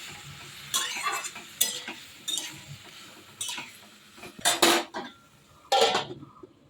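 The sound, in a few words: vegetables frying and stirred in pan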